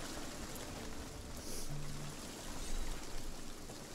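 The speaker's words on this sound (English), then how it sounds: "It's always raining on Plunder Valley." Rain falls steadily in the pirate game Sea of Thieves, a dense, even hiss of water that is moderately loud with a brief low hum partway through.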